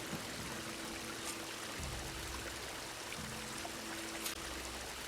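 Water flowing from a pipe in Horizon Forbidden West, a steady pouring rush that holds at an even level throughout with a faint low hum beneath.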